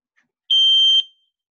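A loud, steady electronic alarm tone from an ALS call-for-help device plugged in beside a bed, sounding for about half a second after a faint click, then cutting off and fading briefly.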